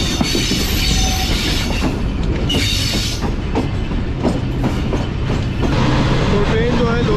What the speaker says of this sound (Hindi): तो ट्रेन जो है लोधरा चलने के बाद एक अच्छे स्पीड में आ चुकी है।